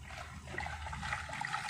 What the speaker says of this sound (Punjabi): ਚਲੋ ਇਹਦੇ ਵਿੱਚ ਆਪਾਂ ਪਾਣੀ ਮਿਕਸ ਕਰਦੇ ਹਾਂ, ਪਾਣੀ ਐਡ ਕਰ ਰਹੀ ਹਾਂ